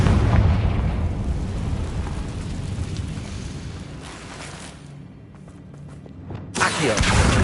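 An explosive Confringo spell blast in a Hogwarts video game: a loud, sustained rumbling roar that slowly fades, then a fresh burst near the end.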